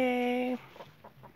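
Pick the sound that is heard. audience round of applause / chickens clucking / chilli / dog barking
chickens clucking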